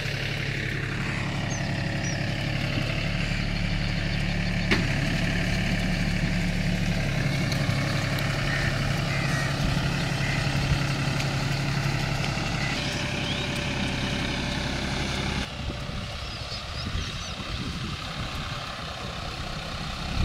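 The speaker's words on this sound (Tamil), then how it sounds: "டிராக்டர் பார்த்தீங்கன்னா ஜாண்டியருடைய 50-50D." A John Deere 5050D tractor engine runs steadily with a rotavator attached, a continuous loud low drone with a mechanical rattle that shifts slightly near the end, heard up close without speech.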